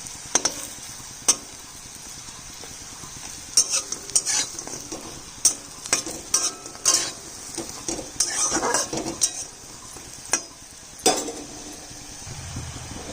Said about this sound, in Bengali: এই বড়িগুলো ভাজা হয়ে গেছে